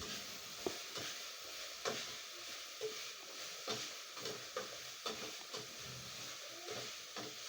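Grated carrots being stirred into vegetable rice in a pot, with a soft hiss and a steady series of light scraping stir strokes, close and fairly quiet, with no talking.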